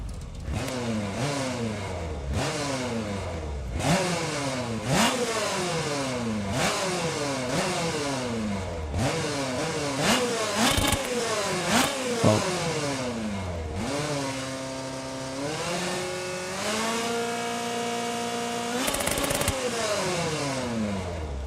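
A rally car engine in the Assetto Corsa Rally racing game revs hard through rising pitch sweeps and gear changes, buzzing and raspy like a chainsaw, loud and continuous with no talk over it.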